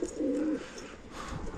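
Homing pigeons coo in a low, throaty burble lasting about half a second, fairly close, followed by quieter background chatter from the loft.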